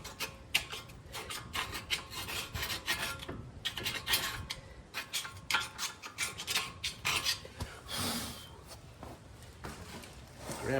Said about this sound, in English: Take a screwdriver, clean out the recess.